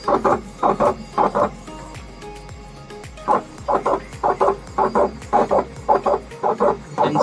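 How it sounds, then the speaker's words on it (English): Modified Epson L1800 printer running a print job, with bursts of rhythmic mechanical chatter and clicking as the print head passes, a pause in the middle, then repeated passes again, close and fairly steady. "you don't have to sit near the printer while it is printing"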